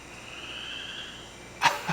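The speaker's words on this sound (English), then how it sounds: "do you hear the frogs?" Frogs croak near a greenhouse beside a wet, boggy spot, with a faint steady chorus in the background and then two louder, close croaks right at the end.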